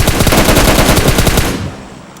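Rapid automatic gunfire from the mobile battle royale game PUBG Mobile, a loud burst of about a dozen evenly spaced shots lasting over a second before cutting off into a fading tail, with no voices over it.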